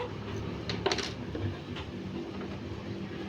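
A silver spoon is handled during a simple school electric-circuit experiment, giving a few faint metallic clinks and taps in a quiet room.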